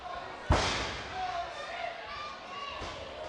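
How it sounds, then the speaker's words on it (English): Heavy body slam of a wrestler landing a split-legged moonsault on the ring mat during a Travis Toxic vs Dick Durning match: one loud close impact thud, with a fainter second thump later and crowd or commentary noise underneath. "Split-legged moonsault."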